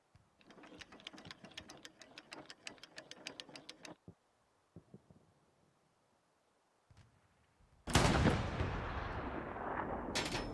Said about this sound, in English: Firing out on the beach right there.